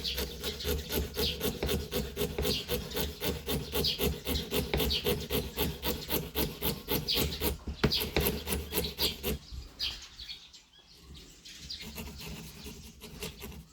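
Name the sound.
small hand saw cutting metal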